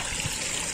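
Water trickles and splashes continuously over a small toy waterfall, a steady close, soft flowing sound.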